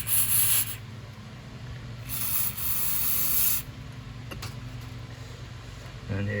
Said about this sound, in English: I'll spray a bit more of this stuff in it.